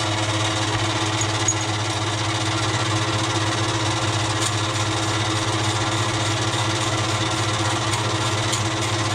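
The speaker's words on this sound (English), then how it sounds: "This is how I grind the valve stems." Valve stems from a John Deere B engine being ground on a worn grinding wheel, giving a steady, loud continuous grinding whine with motor hum throughout, no pauses.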